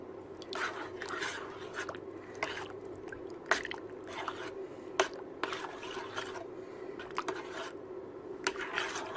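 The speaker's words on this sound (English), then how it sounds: "I'm just going to stir it and heat it through" Chicken basil casserole made from food-storage pantry ingredients being stirred in a pot, giving soft repeated wet squishing and scraping sounds with occasional sharper clicks of the spoon against the pot, close and steady over a low background hum.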